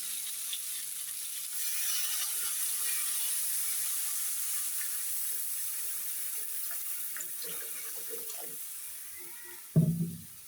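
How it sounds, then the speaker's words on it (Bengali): Water is poured into a pan of potato curry: a steady, fairly quiet stream of running and splashing water continues for about nine seconds, ending with a brief louder clatter near the close. "এখন পরিমাণ মতো জল দিয়ে দিব।"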